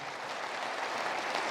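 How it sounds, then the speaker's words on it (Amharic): An audience at an Ethiopian honouring ceremony for artist Getnet Enyew claps in a steady, dense wash of applause, fairly far off and even throughout. "አጨብጭቡልኝ እባካችሁ።"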